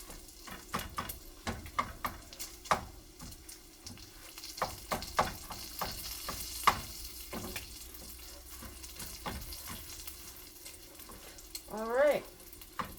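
Eggs sizzle steadily in a frying pan beside bacon, close by, with scraping and stirring clatter from a utensil on top, a brief splash of running water, and a voice speaking now and then.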